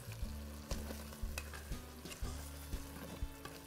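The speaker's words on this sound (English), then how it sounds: "Give it a good stir" Beef, bacon, onions and garlic sizzle and fry in a Pressure King Pro, with quiet repeated scraping stir strokes over a steady crackle, close and faint.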